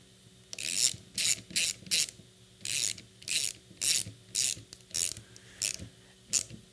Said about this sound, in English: we'll get that nut started. Okay, and once again, we're going to tighten it down